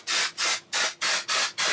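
A can of Dark & Lovely intense color hair spray sprays six quick hissing bursts in a steady rhythm, loud and close, with no voices.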